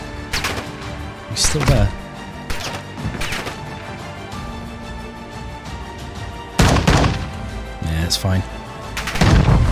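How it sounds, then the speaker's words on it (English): Enemy gunfire in a first-person shooter video game: several sharp, loud bursts of shots and impacts at irregular intervals, with a steady rumble of game noise underneath and someone talking between the volleys. "We've got someone else shooting at us now from the other side."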